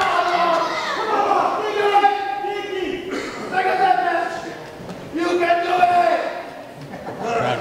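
A pro wrestling crowd roars and cheers for Danny Maff, swelling and dipping in waves beneath steady commentary voices that talk over the noise throughout.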